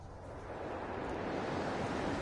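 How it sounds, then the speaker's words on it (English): Storm wind and crashing ocean waves in the video game No Man's Sky, a dense, unbroken roar of surf and gusting air that holds steady and loud throughout. "the storm sound effects, I'm talking louder because there's a storm"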